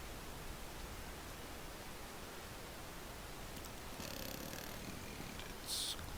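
A druid in cat form on prowl in World of Warcraft, giving a low, steady purr-like rumble heard as even noise throughout, with a brief brighter rustle near the end.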